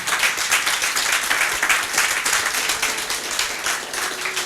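A church congregation clapping together, a dense, steady rhythmic patter of many hands filling the room, with faint voices mixed underneath.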